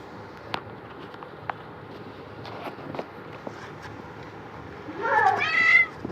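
A mother cat with newborn kittens lets out one clear, drawn-out meow close by near the end, after a stretch of quiet room sound with a few soft taps and footsteps.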